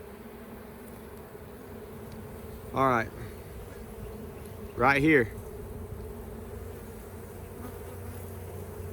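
Honey bees hum steadily around an open hive with brood frames during a swarm-cell split check, a constant close buzz under two brief spoken remarks.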